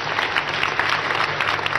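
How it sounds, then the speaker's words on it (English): Church congregation clapping for Jesus Christ during a sermon, a dense, steady wash of many hands close and loud throughout, with no voices over it. "Clap for Jesus Christ."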